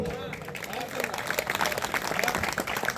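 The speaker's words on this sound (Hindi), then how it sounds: "ताली बजती है यहां पे" An audience at a Hindi poetry recitation in Hamirpur breaks into applause, a dense wash of clapping rising and holding steady, mixed with crowd noise and some voices.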